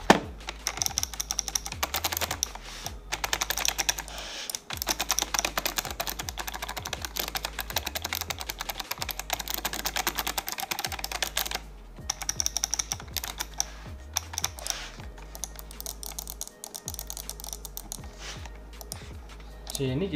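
A Razer Tartarus V2 gaming keypad is being tested with a steady, fast run of clicky keypresses that continues for about twenty seconds, with a few short pauses and a low hum underneath.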